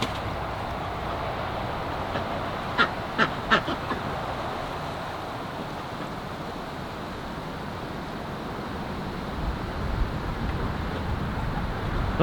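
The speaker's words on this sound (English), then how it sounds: "Apparently the ducks are up to more shenanigans, I heard, so I ran back in to get the camera. Oh yeah, they're splashing about." Ducks in a backyard pool give a brief cluster of three quick quacks over a steady outdoor background, with faint splashing and later soft water noises.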